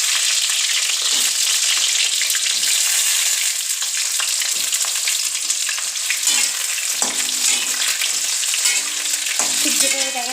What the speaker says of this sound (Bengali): এবার তেলের মধ্যে পটলগুলোকে আমি আগে ভেজে নেব।